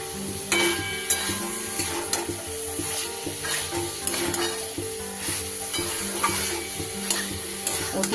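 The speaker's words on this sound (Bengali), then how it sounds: "সয়াবিনটা দিয়ে এবার মশলার সাথে আমি খুব ভালো করে এটা কষিয়ে নেব" Soybean chunks stir-fried with spice masala in hot oil for a Bengali vegetarian soybean curry, giving a steady close sizzle with repeated scraping and clinking strokes of a spatula against the pan at an irregular rhythm.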